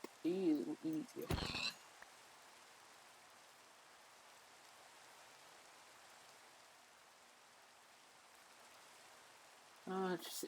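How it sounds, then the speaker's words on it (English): Steady, soft rain falls in Minecraft Java 1.16.5 hardcore survival, a continuous hiss that runs alone through the middle, with a person talking briefly at the start and end. "Just sitting on a hill in the rain,"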